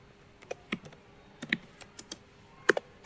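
Close, irregular keystrokes clatter on a computer keyboard as code is typed for a post API, with bursts of quick clicks and short pauses and no voices.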